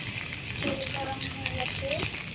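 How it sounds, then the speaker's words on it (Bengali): Chopped garlic fries in hot mustard oil in a heated pan with a steady, soft sizzle and a few faint pops and scrapes. "তেল গরম হয়ে গেছে, এবার দিয়ে দেব রসুন কুচি।"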